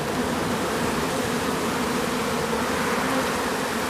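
A swarm of gentle honeybees being shaken into a box and caught from a tree, giving a dense, steady, close buzzing hum that fills the whole stretch without a break.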